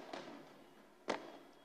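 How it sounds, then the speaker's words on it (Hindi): Firecrackers burst in the background at an outdoor event in Govandi, with two sharp distant pops about a second apart over a low hum. "ये जो पीछे पटाखों का शोर है"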